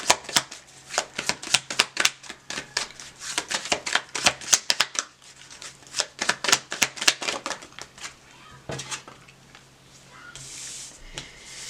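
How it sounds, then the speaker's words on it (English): Close, rapid tarot card shuffling, a long run of sharp crisp flicks and riffles in quick bursts, slowing to a few slaps before a brief rustle. "One more shuffle."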